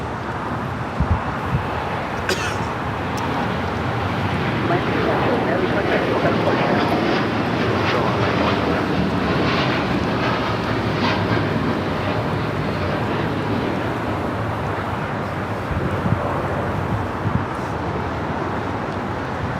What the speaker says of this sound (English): we finally have that American Dreamliner now rolling down at 25 right